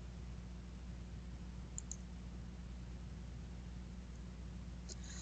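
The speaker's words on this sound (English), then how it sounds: "clicking once on Document to view the list of folders in the right pane" A computer mouse clicks faintly in a quiet room with steady low hum, a couple of small sharp clicks spaced apart, one near the middle and another near the end.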